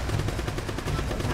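Rapid pistol shots in the video game Uncharted crack in a quick, regular string, about a dozen evenly spaced reports over a steady background of game noise, loud and close.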